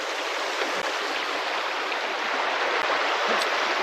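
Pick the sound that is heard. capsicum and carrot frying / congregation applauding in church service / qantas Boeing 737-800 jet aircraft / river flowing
river flowing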